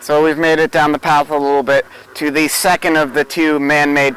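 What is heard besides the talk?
No everyday noises stand out.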